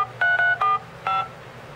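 A Dell Streak 5 phone dialpad gives four short, crisp tones, three in quick succession and then one after a pause, heard close and clear.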